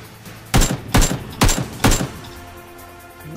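Four loud, evenly spaced gunshots in the battle-royale shooter PUBG, sharp close reports about half a second apart, followed by a quieter stretch of game ambience.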